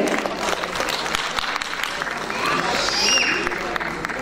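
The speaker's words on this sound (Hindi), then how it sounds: "एक बार फिर तालियों के साथ हम अभिवादन करें।" Audience applause at a Hindi literary award ceremony honouring writers, a broad continuous clapping wash with a voice speaking over it on a hall sound system.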